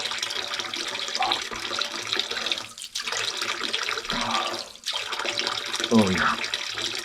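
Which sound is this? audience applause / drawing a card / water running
water running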